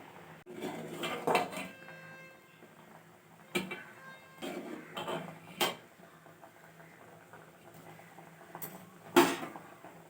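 Dishes and kitchen utensils get scrubbed and handled: scattered metallic clinks, clatters and knocks in irregular bursts, fairly close but soft, with quiet gaps between and no talking.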